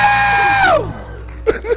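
A loud, high scream from a church congregation slides downward in pitch and fades, followed by a brief burst of shouting.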